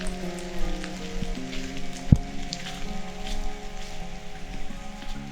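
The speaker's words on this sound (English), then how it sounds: "The rain has started" Rain falls steadily outdoors while overlanding on Haida Gwaii, British Columbia, a soft continuous patter beneath sustained tonal music, with one sharp close tap partway through.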